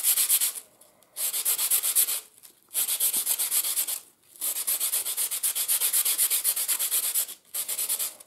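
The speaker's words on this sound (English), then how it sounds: "I'm laying that on the sandpaper and trying to get that down to a rounded shape" A charcoal stick is scraped back and forth on sandpaper to round its squared-off end, producing bursts of dry, hissing rasps with short pauses between strokes, close and alone.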